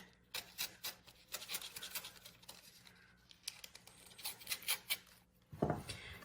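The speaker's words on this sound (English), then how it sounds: "I'm just going to use an X-Acto knife" An X-Acto knife cutting through metal embossing foil, making quiet close scratchy scoring strokes and small clicks in an uneven rhythm, ending with a louder rustle.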